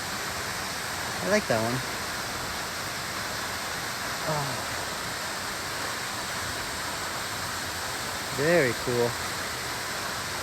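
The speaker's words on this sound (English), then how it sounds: "We found a waterfall, folks." Munising Falls in Michigan pours as a steady, even rush of falling water close by, while people talk briefly over the constant roar.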